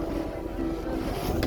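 A boat motors back across the water near Phuket at sunset, its engine giving a steady, continuous drone with wind and water noise blending in.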